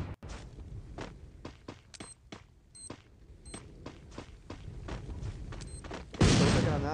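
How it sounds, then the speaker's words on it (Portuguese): Grenade going off in a ranked Free Fire match: light footsteps and scattered game sounds build up before one loud, close blast near the end. "Outra granada. Mais uma."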